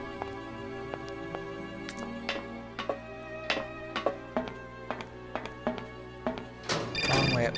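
A telephone rings repeatedly in the Syberia video game, each ring a bright, clear burst repeating in steady rhythm over a low background drone, with a voice speaking alongside.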